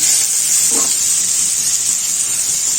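Ash gourd pieces drop into hot oil tempered with dried chili, setting off a loud, continuous hissing sizzle that stays even throughout, with one brief clatter near the start.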